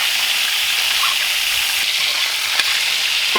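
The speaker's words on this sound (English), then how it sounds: "we're just going to baste them with butter" Steaks sizzling loudly on a grill as they are basted with butter, rosemary and garlic, a dense continuous hiss with a faint tap near the end.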